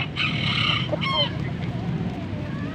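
A Sweater breed rooster at an outdoor pet market in Pampanga gives two short, loud crowing or honking calls close by, over a steady crowd murmur with people talking.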